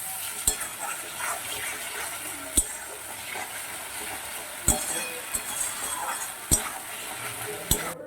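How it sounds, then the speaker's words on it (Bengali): Spice masala frying in oil with sugar, salt and chilli for a raw banana and egg kofta curry, a soft continuous sizzle punctuated by several sharp clinks of a spoon against the pan while stirring. "ভালো করে মশলাটা কষিয়ে নেবেন"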